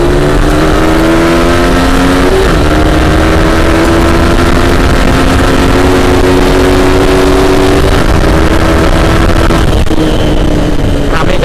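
Motorcycle engine revving and accelerating hard on a busy road during a street drag, loud and close throughout with rising pitch sweeps, a gear change around two seconds and brief talk underneath.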